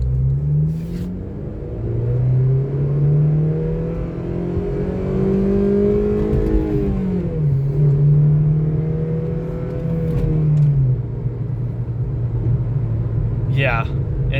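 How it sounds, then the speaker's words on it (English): A 2007 Honda Civic Si FG2's high-revving engine climbs and swells into VTEC, its pitch rising and falling across a long pull, heard from inside the car under a voice talking throughout. "It has that VTEC power. And yeah, you can kind of hear it kicking at 6K."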